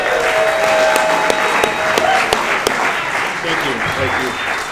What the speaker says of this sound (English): Give yourselves an applause, too.